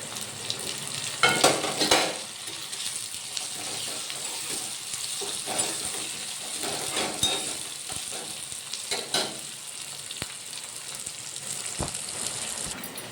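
Chillies and tomatoes fry in a hot pan with a steady, soft sizzle, interrupted by a few scraping stirs and clinks of a spoon against the metal.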